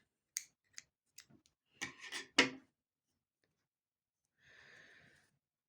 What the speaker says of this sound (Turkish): ipimi burada kopartıyorum